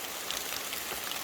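Rain falls steadily on a hiking trail on La Palma, a dense, even hiss of drops with faint scattered patters, close and constant, with no voices.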